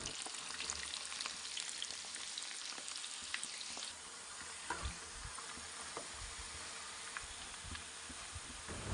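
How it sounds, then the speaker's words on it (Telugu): Boiled bitter gourd pieces deep-fry in hot oil with a steady, dense sizzle and crackle that runs the whole time, close by and with no talking. "ఉడకబెట్టిన కాకరకాయలని ఇలా ఆయిల్లో డీప్ ఫ్రై చేసుకొని"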